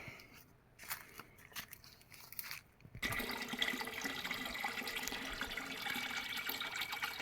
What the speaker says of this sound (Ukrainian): Насос у нас хороший, бачите, працює бездоганно.